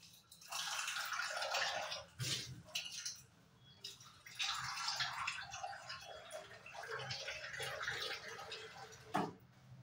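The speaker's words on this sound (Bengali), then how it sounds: "এখন আমি ঠান্ডা জল দিয়ে ধুয়ে নেব।" Cold water runs and splashes over freshly made chhena for rasgulla, rinsing it in bursts with short pauses and a few drips, close and steady without talk.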